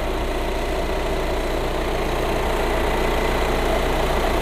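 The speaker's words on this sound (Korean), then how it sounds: "엔진 소리도 일정합니다." The diesel engine of an Audi A5 2.0 TDI Quattro Sportback idles close by, a constant low rumble with even vibration and no other sounds over it.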